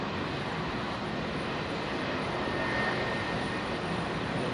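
A Boeing 787 Dreamliner takes off from runway 27R at London Heathrow after a short departure run. Its jet engines give a steady, wide rushing roar, heard at moderate distance without pause.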